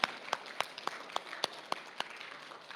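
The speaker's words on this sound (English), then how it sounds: "let's give Mr. Rudolph a good round of applause" An audience at a school sports awards ceremony gives a round of applause, scattered distinct claps at a modest, fairly faint level, with no talking.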